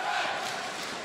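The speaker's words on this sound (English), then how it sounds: "The crowd is chanting Effect" Arena crowd at the ALGS Grand Finals esports event chanting the player name Effect, a dense, loud roar of many voices filling the space throughout.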